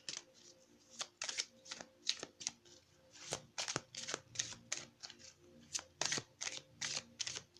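Tarot cards are shuffled for a reading, giving repeated crisp riffling bursts and soft slaps at an uneven pace, close and fairly quiet, with no talking.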